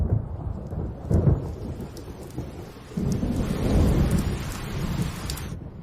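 Thunder rolls and booms outside a window as heavy rain pours down steadily, with a louder burst of rumbling partway through and no voices.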